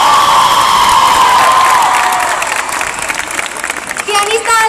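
Pop concert crowd in Fuengirola cheering and applauding a bassist, a loud dense roar with high sustained shouts and screams, tapering slightly, with a voice rising over it near the end.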